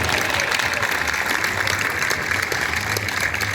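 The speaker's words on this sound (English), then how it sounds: "Let's give these first responders a big round of applause." A crowd gathered downtown at a South Carolina Tunnel to Towers run claps for first responders, a continuous, fairly loud outdoor applause with a slightly uneven, textured spread of hands.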